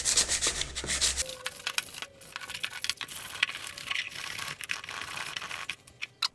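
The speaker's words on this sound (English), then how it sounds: "Scrap this bit of foam and let's come back and sand" Abrasive paper rubbed over a block of foam being shaped into a natural reptile hide, giving an irregular rasping scrub in short close strokes with a few sharp taps, and no talking.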